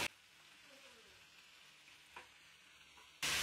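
Grated radish with salt and turmeric is stirred in a pan: a soft, steady sizzle with faint scrapes, quiet and close, ending in a sudden louder burst.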